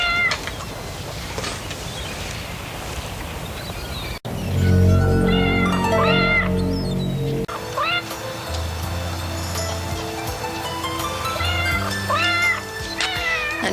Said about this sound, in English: they dubbed in a cat's meow that goes on and on and on throughout the scene